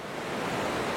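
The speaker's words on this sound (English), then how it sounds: "So I can see the waterfall already. It's not a long walk. I can hear it before I see it." Shannon Falls waterfall roars as a dense, steady wash of rushing water, loud and continuous with no voices over it.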